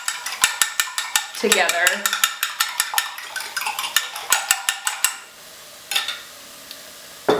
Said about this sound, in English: we can crack the egg into the broth. And then just kind of whisk this